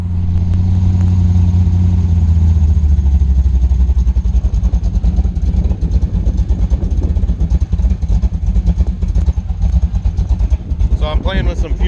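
Supercharged Chevy-powered Jeep truck running on a dyno at about 3 pounds of boost, its engine droning loud and steady with a deep low rumble throughout and a brief rising whine near the end.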